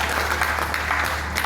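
An audience claps at a live comedy show by a Great Indian Laughter Challenge winner in Kasganj, a brief burst of dense, loud applause with no speech over it.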